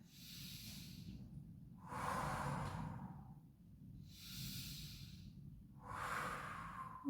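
Deep breathing during a beginner core yoga class focused on the pelvic floor, four slow breath cycles of airy inhales and exhales, steady and close, with no speech.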